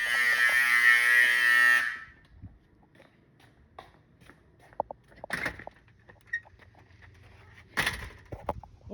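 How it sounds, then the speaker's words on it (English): A school fire alarm blares loudly for about two seconds, then cuts off, leaving scattered knocks and shuffling sounds. "I'm not sure why the alarm's going off"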